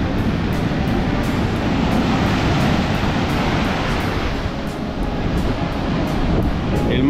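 Pacific ocean waves surging onto a beach in El Salvador, a steady loud roar of surf with wind buffeting the microphone throughout, no voices.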